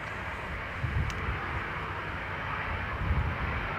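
Jet airliner taking off from Dublin Airport runway 10 right on a windy day, a distant broadband roar rumbling steadily with gusty wind buffeting the microphone.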